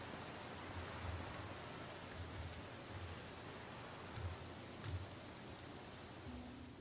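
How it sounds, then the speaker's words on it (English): Steady broadband rain hiss from the Pathfinder Kingmaker video game, continuous and even throughout with a few faint low thumps, no talking. "Oh, it's still raining. Of course it is."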